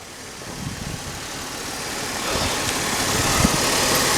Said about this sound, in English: Listen to that motor. Don't it sound good?